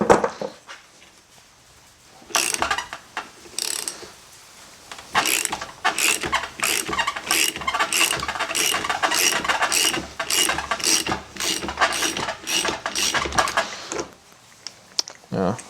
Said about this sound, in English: I'm just gonna put this breaker bar through, catch this bolt, have my puller installed. I'm just gonna start cranking away.